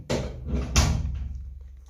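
A repaired interior door that had been sticking and refusing to close is pushed shut, giving two quick wooden thuds and a rattle in a quiet room.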